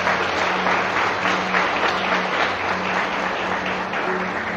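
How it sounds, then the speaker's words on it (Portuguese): A church congregation bursts into sustained applause, dense and steady clapping from many hands filling the hall for several seconds with no voices standing out. "Vamos aplaudir o Senhor Jesus Cristo."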